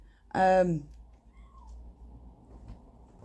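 A cat gives one loud, close meow, then near silence with only faint background hum.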